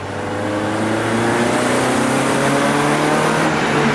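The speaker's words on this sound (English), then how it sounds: "I just floored it in first gear and did the same exact thing as usual" Toyota Corolla budget drift car accelerating hard from a dead stop in first gear with the pedal floored, a loud, steady close engine roar that climbs gradually in pitch over several seconds, no talking.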